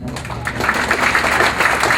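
Audience applause at a city state-of-the-city address, a loud, dense wash of clapping from a crowd that builds and holds steady for a couple of seconds.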